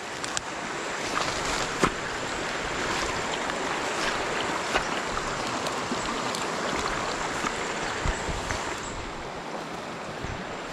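Floodwater flowing in a strong, continuous rush, a dense, steady roar of moving water throughout with occasional small splashes, loud and close.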